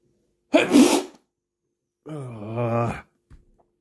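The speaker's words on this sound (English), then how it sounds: "Ah, I feel I'm going to sneeze again." A man sneezes sharply once up close, then lets out a long groaning, voiced exhale afterward, with a faint breath at the end and silence between.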